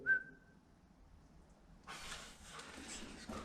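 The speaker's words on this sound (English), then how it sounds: "Did you hear that whistle?" A single short, clear whistle tone at the start, then a sudden broad rushing noise that fills the rest of the moment inside a WW2 air raid tunnel, with quiet echoing space around.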